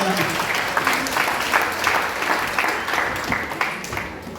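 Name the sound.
congregation applauding loudly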